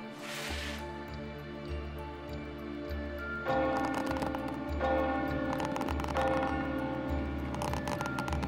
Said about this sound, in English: And that's the bell we've been hearing each time.